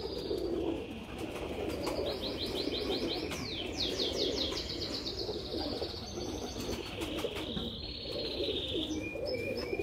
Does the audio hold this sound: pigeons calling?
yes